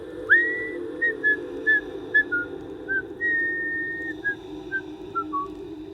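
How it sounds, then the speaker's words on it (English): A man whistles a short melody while digging, clear bright notes in quick phrases with one long held tone, close and fairly quiet over a low steady background hum. "He just kept digging and whistling the same short melody over and over."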